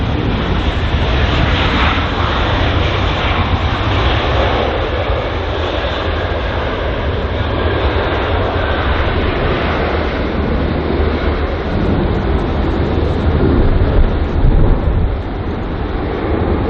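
An Airbus A321neo airliner landing at London Heathrow: a steady, loud broadband roar of engines and rushing air that holds for the whole stretch, with no voices.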